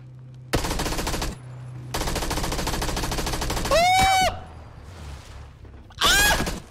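Sustained bursts of automatic gunfire in PUBG, loud rapid rattling broken by short pauses, with a few sharp ricochet-like whines in between.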